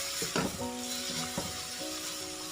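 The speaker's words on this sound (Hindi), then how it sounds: "इसको इसके साथ में 10 से 12 सेकंड के लिए फ्राई कर लेते हैं" Chopped green chillies fry in a pan with a soft, steady sizzle, broken by a couple of brief stirring scrapes and a faint ringing tone underneath.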